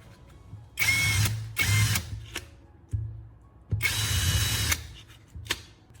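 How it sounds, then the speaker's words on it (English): A power drill boring small holes through the centers of marked circles, in several bursts of whirring of about a second each with short pauses between, close and loud. "drill a small hole right in the center of each one"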